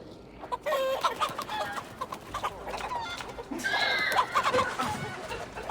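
Chickens cluck repeatedly in Assassin's Creed Valhalla, several hens close by with busy overlapping calls over a steady outdoor game ambience, growing denser toward the end.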